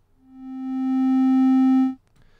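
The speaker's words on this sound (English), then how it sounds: "Let's do triangle wave." A VCV Rack oscillator produces a triangle wave: a single steady low tone that swells in and holds for nearly two seconds, then cuts off cleanly, with faint harmonics above it and no voices.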